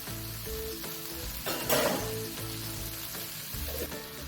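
Garlic sizzling in a hot pan gives a steady frying hiss with a brief louder burst partway through, while soft background music plays underneath.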